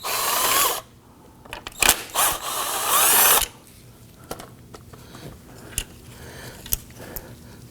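A socket and ratchet backs out two 10mm bolts holding the grille sensor on a 2018-2024 Toyota Camry: short bursts of whirring and clicking, loud and close, then scattered light taps and clinks, with no talking.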